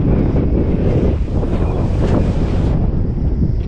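Strong wind roars steadily and loudly across the microphone during a paragliding flight over Pokhara, Nepal, a constant buffeting rush with no pauses.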